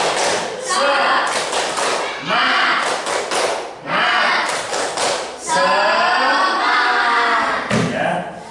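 A group performs the 'tepuk semangat' rhythmic clapping routine, led by a teacher, with sharp claps in quick patterned bursts and voices chanting along between them.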